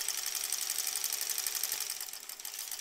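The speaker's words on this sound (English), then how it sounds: "I get trapped when I free motion quilt into little corners." A sewing machine runs steadily through free-motion quilting, a continuous close whir with dense rapid stitching texture and no pauses, even in loudness throughout.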